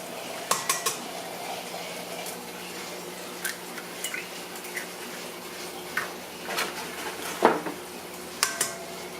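Three eggs cracked over a pan while a pumpkin roll batter is mixed with sugar: scattered sharp taps and clicks against the pan and shell, some close and distinct, over a quiet background without speech.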